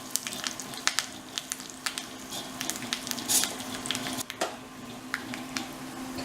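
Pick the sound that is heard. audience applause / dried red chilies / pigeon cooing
dried red chilies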